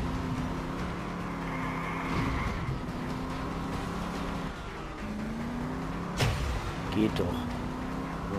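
A hard-to-control car in Just Cause 2 hums along with a steady engine drone, broken by a few short thuds and scrapes. Someone speaks briefly over it.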